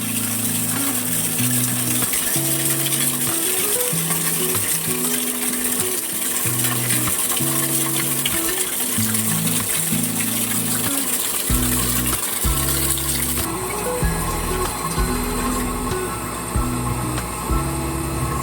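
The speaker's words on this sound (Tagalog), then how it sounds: "Ang tubig, napakalakas ng tubig yan." Water gushes steadily and forcefully from a pipe on a house water line, a loud constant rush with a throbbing, mechanical pulse underneath.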